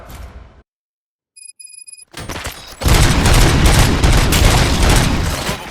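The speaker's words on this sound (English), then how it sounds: "Gunshots? What's going on?" Heavy gunfire in the Robocop Rogue City video game. A brief quiet stretch with faint beeps gives way to a dense, loud, continuous burst of shots that goes on to the end.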